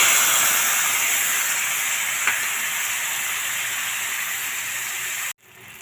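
Spice masala hits hot oil for tempering a gathiya curry, giving a loud, steady, close sizzle and hiss that runs unbroken for several seconds, then cuts off abruptly.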